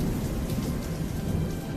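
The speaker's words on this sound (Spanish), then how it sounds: "Las tormentas son un fenómeno increíble en la atmósfera" Steady heavy rain with rolling thunder fills a storm scene, a dense continuous roar with low rumbles swelling throughout and no voices.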